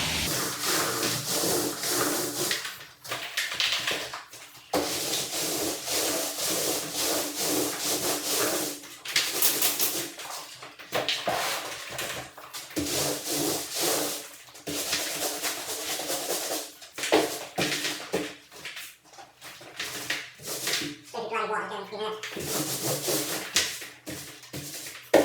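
A 15-inch paint roller spreads a thin mist coat onto new plaster walls, making repeated close rasping, rubbing strokes with brief pauses between passes and no speech.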